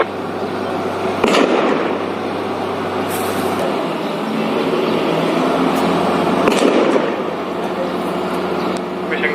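Single gunshots ring out during a live military encounter, two or three sharp distant cracks standing out over a steady loud background rumble, with voices faintly present.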